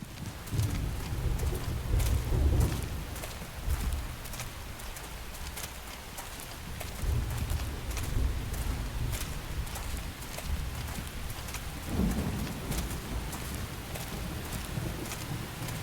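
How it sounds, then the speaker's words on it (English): Rain and thunder in the Xenoblade Chronicles X Definitive Edition video game, a steady wash of rain with low rumbling swells and gusty wind rising and falling around loud peaks, with no speech. "The rain's starting to let up, just in time for sunrise."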